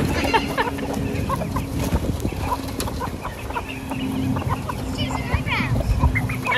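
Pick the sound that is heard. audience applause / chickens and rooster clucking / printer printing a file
chickens and rooster clucking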